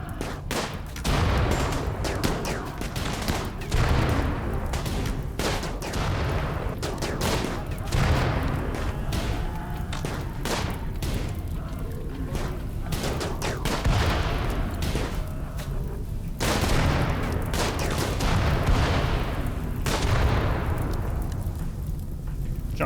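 Dense RimWorld battle gunfire rattles almost nonstop, rapid overlapping shots and bursts with booming impacts and explosions, loud and continuous throughout.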